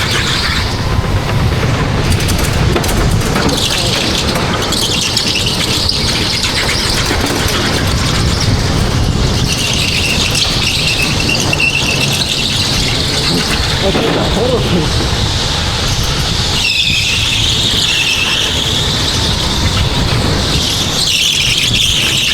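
A go-kart runs a fast lap at Acton, its engine droning loudly and continuously while the pitch rises and falls through the corners, with tyre squeals and other karts nearby; a voice talks over it throughout.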